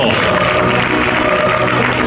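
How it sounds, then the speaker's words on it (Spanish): Spectators at the Castro rowing regatta, the third CaixaBank flag of the Euskotren league, applaud the Guarraun crew in a dense, continuous wash of clapping and crowd noise. "El aplauso también para Guarraun"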